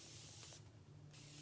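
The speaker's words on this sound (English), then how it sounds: "I'm going to spray some more." A short, soft hiss of setting spray misted onto a face, fairly quiet and close, lasting about a second with a brief pause in the middle.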